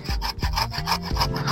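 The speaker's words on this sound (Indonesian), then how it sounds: "di sini aku lebih memilih dengan cara aku gergaji ya" A hand saw cuts into a cassava stem in quick back-and-forth strokes, a raspy rhythmic rasp repeating steadily at close range, with no talking.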